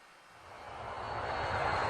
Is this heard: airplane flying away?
yes